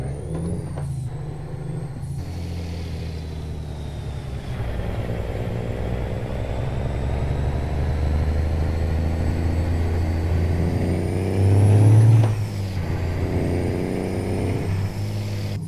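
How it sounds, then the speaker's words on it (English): Simulated heavy truck engine from American Truck Simulator, a steady low diesel drone with a whining high tone, building slightly with a brief louder surge near the end, no talking. "Oh, I do love the sound of this truck."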